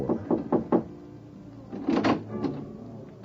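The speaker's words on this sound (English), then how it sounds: "you rub your knuckles against a door marked 4" Knuckles rapping on a door in an old-time radio crime drama: a quick series of four knocks, a pause, then a heavier cluster of raps and a softer follow-up, close and dry.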